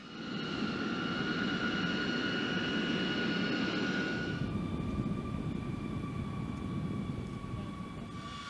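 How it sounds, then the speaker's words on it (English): A large US military jet rolls out after landing with its drag chute deployed, a steady roaring engine rumble with whining tones that shift midway, fairly loud and sustained with no voices. "After landing, the pilot releases the chute, causing it to quickly expand and produce a large amount of aerodynamic drag."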